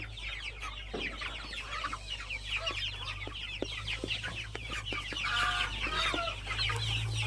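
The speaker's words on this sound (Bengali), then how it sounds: "আমাদের মুরগিগুলো প্রচুর পরিমাণে এগুলো খায়।" Free-range native chickens about two months old cluck and chatter continuously while eating feed on a farm, with many overlapping soft clucks and scratches, fairly quiet and steady with no talk.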